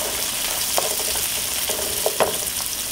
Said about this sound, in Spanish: Ya tengo aquí mi cebolla que había retirado. Ya está un poquito sofrita.